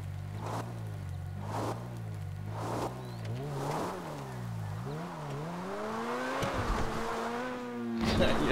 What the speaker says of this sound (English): Making skid marks.